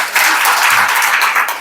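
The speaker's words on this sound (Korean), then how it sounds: "박수." A short, loud burst of congregational applause at a church healing revival meeting, many hands clapping densely and evenly for a moment.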